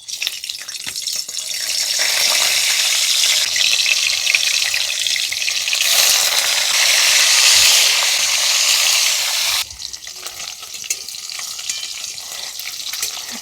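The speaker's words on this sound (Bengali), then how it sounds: "এবার প্রথমে মাছটা ভেজে নেব। মাছগুলো দিয়ে দিচ্ছি।" Snakehead fish frying in oil crackle and hiss loudly in a dense, bright sizzle that swells when the pieces go in, holds steady, then drops off sharply near the end.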